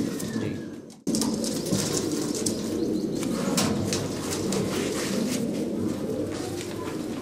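Rajan-wale pigeons, sour-eyed birds kept by a fancier, coo steadily and fairly close after a brief sharp cut at the start, their low murmuring calls layered with occasional wing flaps and faint chirps.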